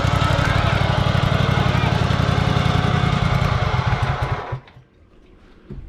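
Homemade mini tracked tank's small engine runs loudly and steadily with a rapid buzzing chug for about four seconds, then cuts out, leaving faint background noise.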